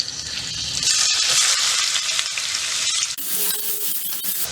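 Cumin seeds, urad dal and a chilli sizzle vigorously in two tablespoons of hot oil for a banana flower podimas, a dense crackling hiss that briefly shifts as the pan is stirred or moved.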